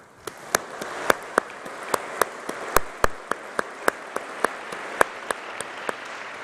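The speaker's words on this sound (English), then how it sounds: "I think they deserve a huge round of applause to our doctors" Audience applause at a university graduation ceremony for the College of Life and Environmental Sciences, honoring doctoral graduates, with sustained clapping and sharp individual claps standing out throughout, fairly close and steady.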